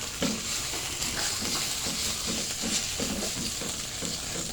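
A steak fries in a hot pan, giving a steady, close sizzle and hiss with faint stirring or scraping pulses underneath, loud and continuous with no talk.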